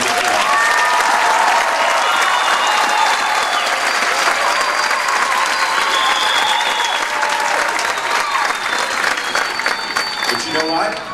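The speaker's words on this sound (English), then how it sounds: "Everybody, please give our graduates a big round of applause." Loud, sustained applause from a large graduation audience honoring the graduates, dense clapping with crowd cheers and whistles running steadily for the whole stretch.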